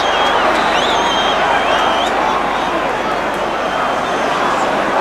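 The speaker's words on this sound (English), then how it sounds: "No, the crowd don't like it, but the referee was right." Football stadium crowd roaring in disapproval at a free kick, a loud dense wall of voices and whistles filling the whole stretch, with no commentary over it.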